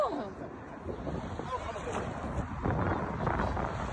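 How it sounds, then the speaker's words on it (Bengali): Strong wind gusting by a lake, blustering roughly into the microphone as a continuous rumbling rush with water lapping beneath. "এত বাতাস ছিল লেকের কাছে"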